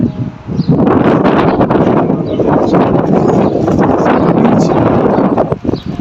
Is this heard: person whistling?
no